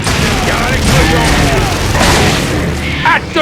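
Loud booming blasts and bursts of explosions and gunfire in Gears of War: Judgment, heavy and chaotic, layered over a noisy mix.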